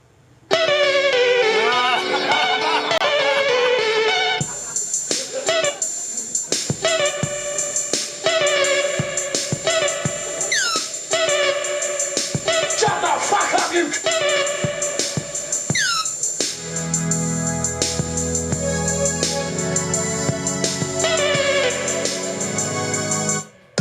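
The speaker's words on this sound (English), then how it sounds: "So here's super gonorrhea. This is the sound of super gonorrhea." Electronic music track presented as the sound of super gonorrhea, loud and continuous with synth melodies and effects, shifting midway into a heavier bass-driven section with dense beats.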